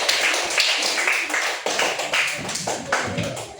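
A class claps in a quick, uneven burst of applause, sharp slaps close by, fading and swelling over a few seconds.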